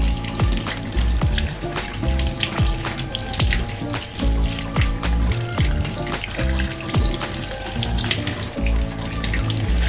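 Ear-shaped mushrooms rinsed by hand under a running kitchen tap, a steady loud splash of water over the sink that continues with shifting gurgles and handling noises throughout.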